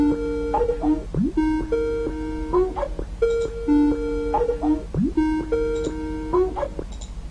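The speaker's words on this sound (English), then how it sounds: "The ringing sound is just going through and through." Repeating Skype call ringtone, a looping electronic melodic pattern of rising and falling tones that cycles several times in steady rhythm, loud and close, playing over a faint constant background hum.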